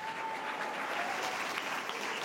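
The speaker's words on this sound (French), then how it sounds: "Je vous demande d'applaudir bien chaleureusement Marc-Emmanuel." Steady, dense applause from a theatre audience fills the hall, sustained and even throughout with no voices standing out.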